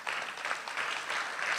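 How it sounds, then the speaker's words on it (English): Brief, faint applause from an audience at a cultural foundation's annual celebration, a soft patter of clapping heard from a distance. "Let us all give her a big round of applause."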